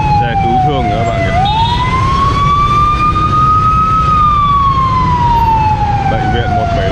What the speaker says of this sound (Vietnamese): Xe cứu thương các bạn nhỉ.